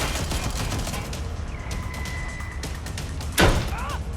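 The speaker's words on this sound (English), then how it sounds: "Shots fired!" Gunfire in Watch Dogs Legion, a steady clatter of shots with a loud heavy thump near the end and brief voices mixed in.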